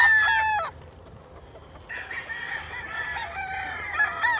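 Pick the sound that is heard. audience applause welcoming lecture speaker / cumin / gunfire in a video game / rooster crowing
rooster crowing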